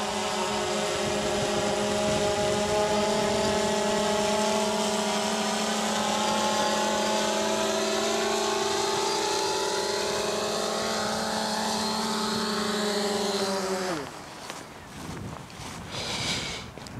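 Xiro Explorer drone descending on its own to land in return-to-home mode, a steady close whining motor buzz with shifting propeller tones that drops sharply in pitch as it settles and the motors wind down.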